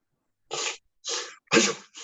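Four quick sneezes in a row, close and fairly loud, each a short burst with brief pauses of silence between them.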